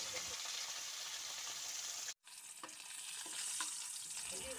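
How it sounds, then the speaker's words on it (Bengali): Pieces of katla fish frying in hot oil, a continuous bright sizzle and crackle with a brief cut of silence partway through and occasional soft clinks, close and fairly quiet, no voices. "বাকি মাছগুলোকে যেগুলো বাকি ছিল সেগুলোকেও দিয়ে দিচ্ছি, দিয়ে এগুলোকে উল্টে পাল্টে কিন্তু লাল লাল করে ভেজে আমি তুলে নেব।"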